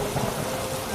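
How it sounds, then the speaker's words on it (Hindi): A heavy downpour sounds as a dense, steady wash of rain hiss, loud and unbroken for a brief moment, with no voices over it. "तभी तेज बारिश शुरू हो जाती है।"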